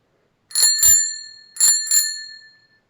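A bright metal bell rings in two pairs of quick double dings, each ring lingering and fading out.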